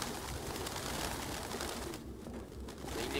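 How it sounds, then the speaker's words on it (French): Pigeons cooing in Detroit: Become Human, soft repeated coos over a dense background of fluttering and ambient noise, fairly faint and continuous. "Mais il aimait bien les pigeons."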